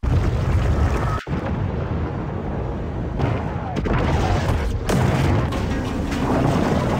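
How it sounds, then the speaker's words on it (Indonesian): A grenade blast in the film Venom: The Last Dance, a loud sustained rumbling boom with dense low-end roar and a brief dropout, continuing as heavy cinematic debris and rumble. "Rex yang terkena percikan asam memutuskan menarik pin granat di tangannya"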